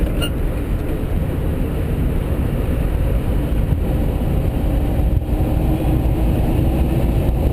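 An electric Karmann Ghia EV conversion accelerating on a freeway, heard as a dense, steady road and wind roar from inside the car with a faint whine, continuous and fairly loud throughout.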